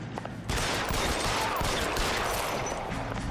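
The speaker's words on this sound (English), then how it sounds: "Let me shoot them." Rapid gunfire in the video game LA Noire, a dense continuous burst of shots starting abruptly and filling the rest of the moment, loud and close, no talking.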